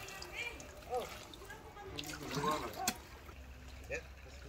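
Water trickles and splashes gently in a channel at the Al Ain oasis, a faint, continuous flow heard beneath nearby voices chatting and laughing.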